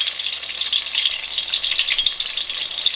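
Apple fritters sizzle and crackle steadily in hot frying oil just after being flipped, a continuous close bright hiss with no talking.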